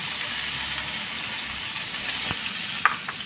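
Chhana filling sizzling and frying in a hot pan while being stirred for mango patishapta, a steady close hiss with a few soft scraping clicks and no voices.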